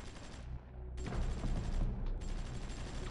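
Rapid fusillade of game gunfire from units in the strategy game Supreme Ruler 2020, dense and continuous with brief gaps, fairly faint overall; no talk.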